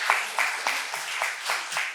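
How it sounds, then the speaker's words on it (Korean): An audience at an academic seminar claps in a steady, rhythmic pattern, roughly three to four claps per second, moderately loud and in unison, with no talking over it. "박수 한번 주셔야 될 것 같습니다."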